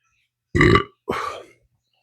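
Two loud, close burps in quick succession after eating chilli peppers, the first deep and full, the second shorter and rougher, with silence around them.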